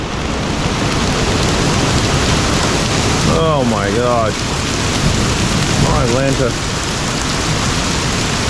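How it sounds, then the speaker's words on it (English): Hail falls steadily outside a truck repair shop, a dense continuous clatter filling the whole stretch, with people speaking briefly over it partway through. "Holy Lord, we're getting hail now."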